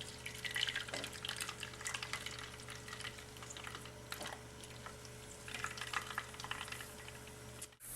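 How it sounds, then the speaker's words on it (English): Coconut milk mixture drains through a nut milk bag with a soft, steady trickling and dripping, faint and close, with occasional small splashes and rustles. "you simply pour the mixture through, and the liquid will drain through and the pulp stays in the bag"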